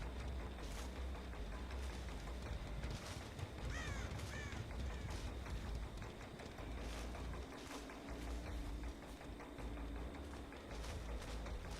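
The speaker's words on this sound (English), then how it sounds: "I saw the bird fly up" A crow in the Dead by Daylight video game caws several times as it flaps up into the air, a short burst of harsh calls over a steady bed of dark ambient game sound and rumble.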